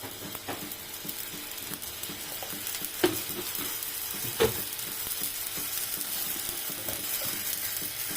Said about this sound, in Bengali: এখন দিয়ে দিব গুঁড়া মরিচের গুঁড়া